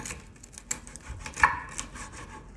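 Cleaver chopping crispy fried pork belly with crackling skin: several close, crunchy knocks at uneven intervals, the loudest strike near the middle, with brittle crackle trailing after each.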